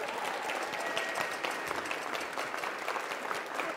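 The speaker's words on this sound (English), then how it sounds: "a big round of applause." Audience applauding a music director after a Balinese beleganjur gamelan ensemble concert, dense sustained clapping from a crowd in a hall with no talk.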